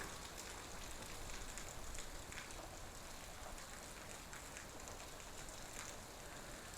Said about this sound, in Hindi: स्पीति में बारिश होती है और झमाझम बारिश होती है